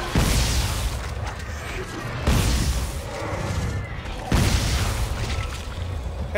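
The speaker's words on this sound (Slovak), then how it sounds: "Hej, ten po mne strieľa dačo." Enemy gunfire in the sci-fi horror game Dead Space 3 comes as three heavy booming bursts, each followed by a rumbling, rattling tail, loud and close, with game effects layered over them.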